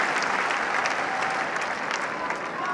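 A large tennis crowd at Roland-Garros claps steadily in dense, sustained applause, loud and close, with cheering mixed in.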